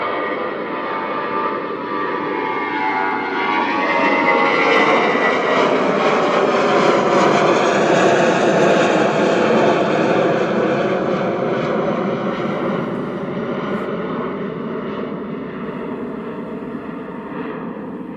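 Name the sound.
aircraft engines at Christchurch Airport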